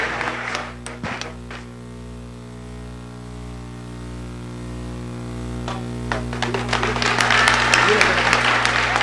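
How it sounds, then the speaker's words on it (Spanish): An audience applauds a priest at a Q&A debate with a Bible student, the clapping swelling from scattered claps into fuller applause toward the end over a steady electrical hum. "Un fuerte aplauso para el Padre"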